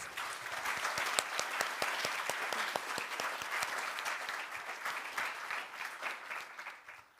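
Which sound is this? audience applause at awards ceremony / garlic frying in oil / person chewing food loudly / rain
audience applause at awards ceremony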